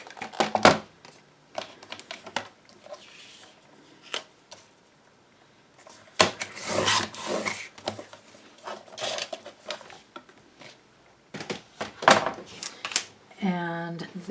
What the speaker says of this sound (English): Okay, so we're going to do a cut here again.